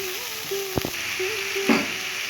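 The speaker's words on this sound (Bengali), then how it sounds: "মশলাটা একটু নাড়িয়ে নেব।" Ground spice paste stirred as it fries in a pan with bay leaf and panch phoron for dudh shukto. A steady soft sizzle runs throughout, broken by a couple of short scraping strokes close by, with no talk.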